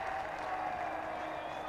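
Cricket crowd at a Test match applauding steadily, a dense continuous wash of clapping and crowd noise that holds at an even level throughout.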